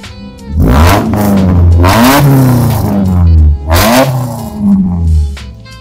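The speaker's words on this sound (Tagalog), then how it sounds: "sound check natin yung sasakyan ni Papi" A loud modified Honda Civic engine revs repeatedly, several rising and falling throttle blips with a raspy exhaust note, close by.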